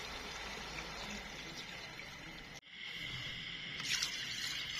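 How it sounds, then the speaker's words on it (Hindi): Water pours steadily into a pot of chicken for sobat stew, a continuous splashing rush, briefly interrupted, then resuming with a brighter gurgling fill. "इसमें अब शामिल करेंगे ढेर सारा पानी।"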